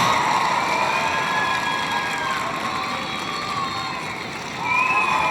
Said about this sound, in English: Crowd's going crazy for that dog.